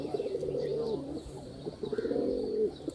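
Sialkoti pigeons at a sale give soft, low cooing in two rolling phrases, close by. A little faint background noise sits between the phrases.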